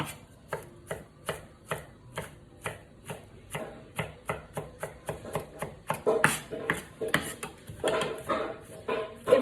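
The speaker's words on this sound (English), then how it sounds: "And just chop them up" Garlic cloves are chopped with a knife on a board in a steady, even rhythm of close, crisp taps that quicken and grow busier toward the end, with no voices.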